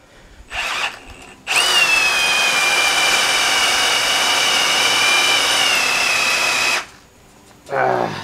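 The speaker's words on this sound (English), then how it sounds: "This drill cuts out. I put it on slow speed." A power drill runs at slow speed while building a bench-style table, one long steady whine of about five seconds, preceded by a short burst and followed by a brief restart, loud and close.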